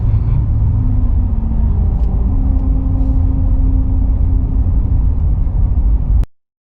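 Car tires roll over a grooved musical road stretch, producing a low droning hum that shifts between musical pitches over a steady engine and road rumble.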